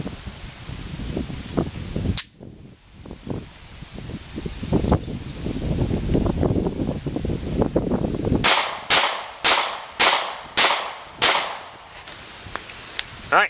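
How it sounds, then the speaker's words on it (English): A Walther PPS 9mm pistol fires six sharp shots in rapid succession near the end, loud and close, after a stretch of outdoor rustling and handling noise. "I'm going to shoot these 6 rapid succession at the one that's on the right"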